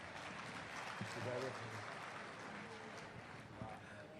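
Faint, distant clapping from the audience at a Hindi comedy poetry recital, a thin diffuse patter with a voice briefly audible over it.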